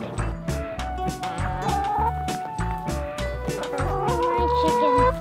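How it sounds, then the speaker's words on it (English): Farm chickens clucking near newly laid eggs, steady close clucks and soft calls in irregular bursts, with people talking over them. "My chicken."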